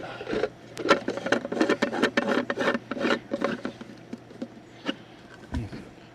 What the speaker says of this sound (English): You got your canister tightening.